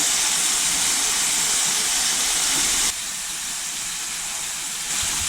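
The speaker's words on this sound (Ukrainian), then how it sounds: "печінку потрібно обсмажувати на невеличкому вогні, аби вона сильно не бризгалася жиром" Liver sizzles steadily in a frying pan over low heat, a continuous close hiss that drops slightly in level partway through and then rises again.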